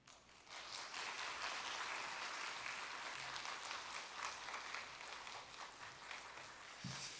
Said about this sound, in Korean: 우리 목사님 보내주신 하나님께 감사의 박수 드리면서